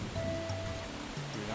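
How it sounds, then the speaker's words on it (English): A waterfall in the Super Mario Sunshine video game, a steady rushing wash of water under a game voice and tones, with a person talking over it. "now the waterfall is back to normal"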